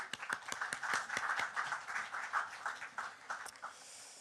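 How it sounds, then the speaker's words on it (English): A live literary event audience applauds a guest author, a steady patter of claps, fairly quiet, lasting about four seconds and tapering off toward the end. "Let's give him a applause."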